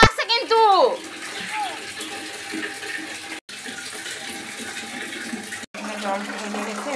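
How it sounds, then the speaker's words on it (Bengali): Water pours into a container near a clay cooking stove, a steady close rushing and gurgling that runs throughout, with a brief sharper splash at the start and voices murmuring faintly. "জল ঢেলে গেছে, এবার নিয়ে যাই।"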